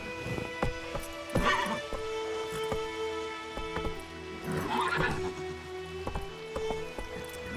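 In The Witcher 3 video game, the horse Roach gallops with steady hoofbeats under a continuous game soundtrack and lets out two loud whinnies, the second near the middle of the stretch.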